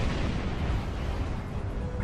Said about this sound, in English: But first, launch torpedo!